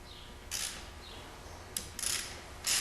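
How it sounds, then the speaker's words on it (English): Lug nuts being removed from a wheel hub assembly, with a few short bursts of ratcheting and metallic scraping separated by quiet gaps, moderately close and without any speech. "We'll start with removing 2 of your lug nuts at a time."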